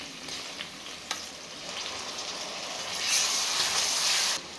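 Freshly ground ginger-garlic paste frying in a pan with green chillies for a mango mutton curry, giving a steady close hiss and sizzle with a few light stirring knocks, swelling louder near the end.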